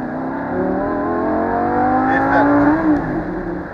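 A 2011 Audi R8 GT's 5.2-litre V10 revs loudly and close, its pitch climbing and dipping through several throttle blips over a steady rumble.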